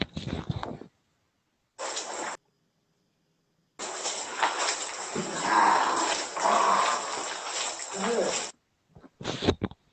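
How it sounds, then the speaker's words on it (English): Several bursts of a rough, rasping animal growl played back, separated by silent gaps, the longest stretch swelling louder in the middle. "There it is, the growl."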